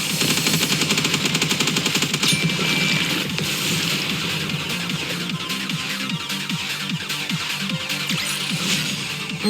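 Rapid automatic gunfire from the anime-style shooter game Goddess of Victory Nikke, dense sustained bursts filling the whole stretch at loud, close level with layered game effects and no talk.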